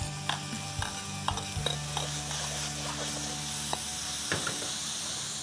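Aromatics and plenty of ginger sizzle in caramel in a pan, a steady close frying hiss broken by scraping and stirring clicks of a utensil.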